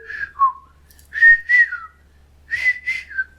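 A person whistling an imitation of the brain fever bird's call, three clear rising phrases of two or three notes each, separated by short pauses.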